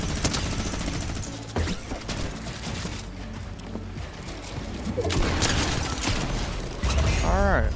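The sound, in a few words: minigun firing in a video game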